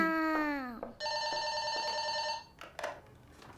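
A telephone rings in a family home, sharp electronic trilling bursts repeating clearly and fairly close, with a child calling out and a short exclamation heard before the ringing starts.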